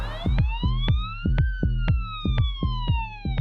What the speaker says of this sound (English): Even with flashing lights and blaring siren, many motorists are reluctant to give way.